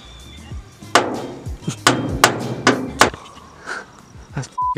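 A nail being hammered in a workshop, a handful of sharp metallic strikes spaced irregularly over a few seconds, close and loud, mixed with other clanks and handling noise.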